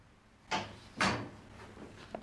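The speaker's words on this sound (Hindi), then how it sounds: "मैंने दरवाजे की आवाज़ सुनी तो।" A door is handled indoors, two distinct thuds of it moving or shutting close by, followed by a faint small click.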